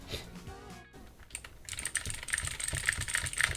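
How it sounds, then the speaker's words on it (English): Loud, clattery typing on a computer keyboard, a rapid run of sharp key strikes that starts about midway and continues steadily to the end, preceded by quieter background sounds. "Do you hear how loud this keyboard is?"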